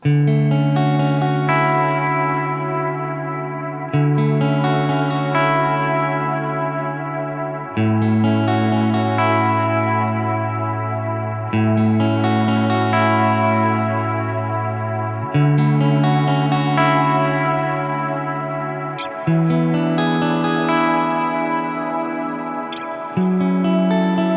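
Sustained electric guitar chords played through a Neural DSP Nano Cortex amp modeler, with a shimmering chorus effect and light grit, changing every few seconds in a steady, ringing progression.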